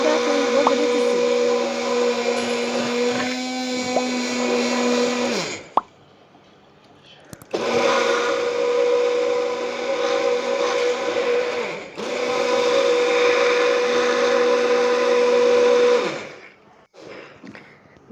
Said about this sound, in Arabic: كده جبت الهاند بلندر وهضربه ضربة حلوة كده اهو عشان نطلع كل الفوائد الموجودة في بودرة الصدر